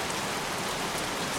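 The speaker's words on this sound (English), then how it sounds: "won't this rain ever let up?" Steady dense rain falling in the Heavy Rain video game, a continuous even hiss with no other sounds.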